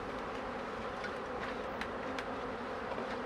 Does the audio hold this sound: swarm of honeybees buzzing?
yes